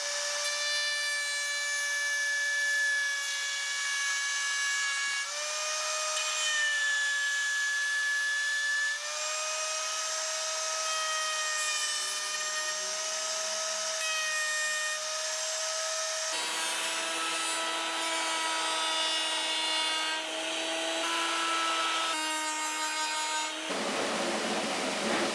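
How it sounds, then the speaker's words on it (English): A router cuts a step into a wooden edge while joining the sides, top and back of a wooden instrument body, producing a loud, steady high-pitched motor whine with shifting pitch and rough cutting noise, running continuously and close up. "So you actually go with the rotation of the router."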